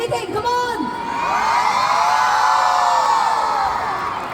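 A large crowd at a stage event with Divya Unni and Kaithapram cheers, whoops and shouts together, a loud sustained roar that builds in the middle and holds.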